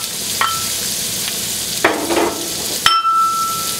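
A large onion sizzles steadily in a pan over medium heat, with a few sharp clinks and scrapes of stirring punctuating the continuous frying hiss, close and fairly loud with no talk.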